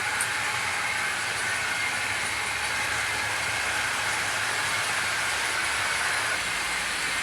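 Tri-ang B12 model steam locomotive pulling teak coaches runs steadily on the track, a continuous close hiss and rolling rumble with no talking.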